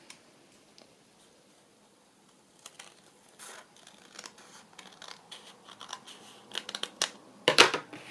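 Scissors trim the rough edge of a paper book page, starting with near silence and building into a run of small crisp snips and paper scratches up close, with one louder cut near the end.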